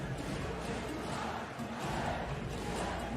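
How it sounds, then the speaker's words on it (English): A large crowd murmurs and cheers steadily inside a basketball arena before a women's EuroCup game between Villeneuve d'Ascq LM and BAXI Ferrol, a continuous, distant wash of voices without distinct peaks. "So the crowd are certainly up for the action here today."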